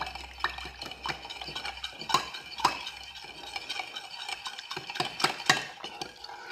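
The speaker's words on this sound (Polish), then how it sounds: "I mieszamy całą miksturę. Mieszamy, mieszamy." Soap bubble mixture being stirred in a container, with repeated clinking and scraping strokes in an uneven rhythm, close and fairly quiet, with no talking.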